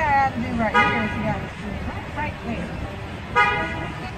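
Car horns honking in traffic on a road, several short sharp toots in a row followed by another blast a few seconds later, close and loud over engine and street noise.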